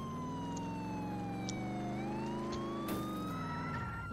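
Police siren in the Roblox game Mad City, a steady wailing tone that slowly falls and rises again, loud and continuous, with a vehicle rumbling underneath.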